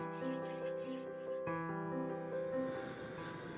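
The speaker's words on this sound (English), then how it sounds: "This is then followed by filing each tube joint to ensure correct conversion." Hand filing on steel gun barrel tube joints during the making of a best London shotgun, a steady rasping rhythm of repeated strokes, close and moderately loud against a faint tonal workshop hum.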